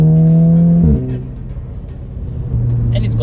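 Revving VW Golf 5 GTI fitted with a Golf 6R turbo engine and 6-speed DSG, one loud rev near the mic falling away into a rumbling idle, then rising again toward the end, with talk over it.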